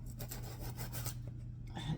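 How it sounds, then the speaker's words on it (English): Blade scraping through fibrous sugarcane stalk, cutting it into thin strips: a steady close rasping with repeated rough strokes and brief pauses. "So what I do is I'm going to cut it in thin strips."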